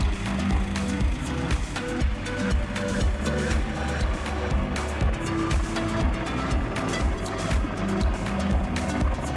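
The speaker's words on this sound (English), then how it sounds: "this is one such aircraft landing, to bring us some spares" A Chinook helicopter lands in dust, its rotors throbbing in a fast, continuous beat over a heavy low engine roar that stays loud and close throughout, with no voices.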